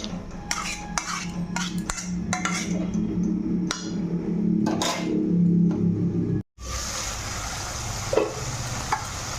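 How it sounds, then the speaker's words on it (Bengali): A spatula scrapes and clinks against a pan while spice paste with salt and turmeric fries and is stirred for a rohu fish gravy, with a low sizzle under irregular metallic taps and a brief pause partway through. "এবার মশলাটাকে আমি ভালো করে নুন হলুদের সঙ্গে মেখে আর কষে নেবো মশলাটাকে ভেজে নেবো"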